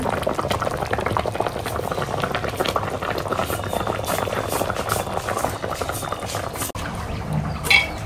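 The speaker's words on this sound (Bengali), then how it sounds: "এখানে হচ্ছে সরিষা ইলিশ রান্না করা হচ্ছে, এই যে ঝোল ঝোল করে" Mustard hilsa fish curry bubbling steadily in its thin broth, a continuous close simmer with dense crackling bubbles throughout and a brief clink near the end.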